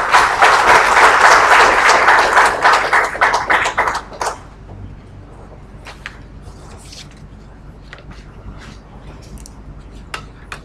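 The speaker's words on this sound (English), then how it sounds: "a warm round of applause please for Professor Malik Ranasinghe" Audience clapping for a speaker at an engineering memorial lecture, a dense, loud burst lasting about four seconds, then dying away to a few scattered claps over quiet room tone.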